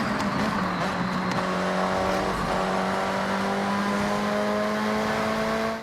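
A Ford car drives fast, its engine holding a loud, sustained tone that rises steadily in pitch as it accelerates, recorded close from inside the vehicle with no talking.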